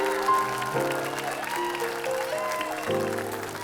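An audience applauding at a live televised singing show, a dense sustained clapping that runs throughout, mixed with lingering musical tones and a faint voice.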